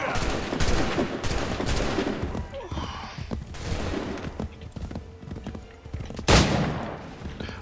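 Horse hooves gallop in Assassin's Creed III, a steady run of soft clip-clop thuds under dense in-game noise, with a sharp gunshot-like burst near the end.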